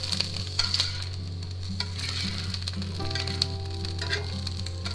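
Onions fry in a pan while being pushed to one side, a close crackling sizzle with scraping and light clatters over a steady low hum.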